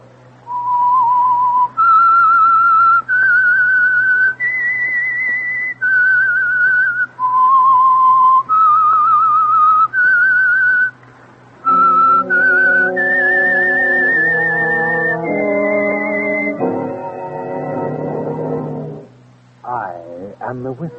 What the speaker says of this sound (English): That whistle is your invitation to listen to the Household Finance Corporation